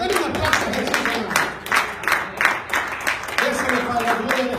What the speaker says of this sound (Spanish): Dale un aplauso a Jesús, hermano.